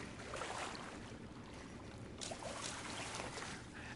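Gentle ambient water sloshing and lapping with a soft breezy hiss in the PSVR2 game Pools VR, steady and continuous with no voices.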